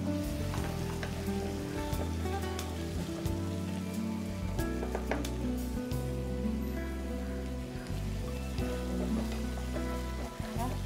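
Curry leaves and tomato frying in a pan of mutton Chettinad gravy, giving a steady, dense sizzle that runs throughout without pause.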